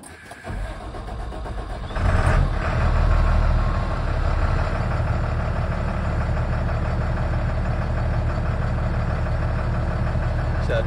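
A 2007 International 4300 box truck engine cranks and fires, a brief louder surge as it catches, then settles into a steady, close diesel idle rumble that continues unbroken with no talk.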